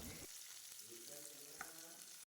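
Chopped onions with curry leaves frying in a pan for a curry, a soft close sizzle with occasional stirring scrapes and a brief clink near the end, quiet and without speech.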